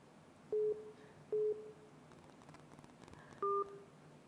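A dropped phone call ends in three short electronic telephone tones, spaced roughly a second apart, over a quiet line with faint hiss between them.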